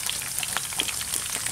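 Fish sizzles and crackles in a hot frying pan with oil, a steady close hiss dotted with small popping spatters and no talk over it.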